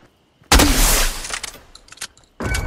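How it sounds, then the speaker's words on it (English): A sharp, loud gunshot blast in the Fortnite video game, followed by a rattling decay and scattered clicks, then a second burst of fire near the end. "Someone shot an Og, Andy, come on."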